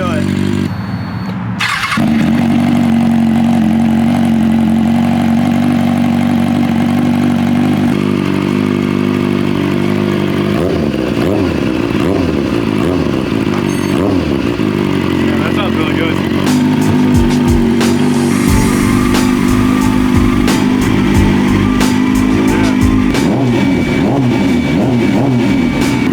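An engine's exhaust with a leak at a rivet runs loud and close, idling with a throaty drone and occasional revving, with a voice talking over it.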